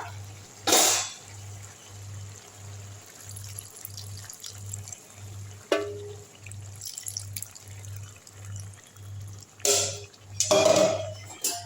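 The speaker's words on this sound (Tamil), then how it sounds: "இப்போ இந்த புளி தண்ணி எடுத்து இதில் ஊற்றிக்கலாம்" Tamarind water pours and splashes into a pot of cooked lentils for sweet potato sambar in a few separate bursts over a steady low hum, with soft trickling in between.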